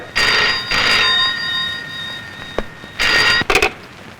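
A telephone rings in loud, close bursts: two long rings, a pause, then another ring and a clipped double ring, with no talking.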